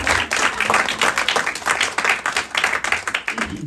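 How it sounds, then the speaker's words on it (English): An audience applauds a speaker during a talk on building habits, a dense, steady patter of many hands clapping close by with no voices over it. "We'll give her a round of applause."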